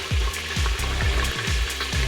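Beef pieces browning in hot frying oil, bubbling and popping in a rapid, regular series of bursts over a constant sizzle, close and fairly loud.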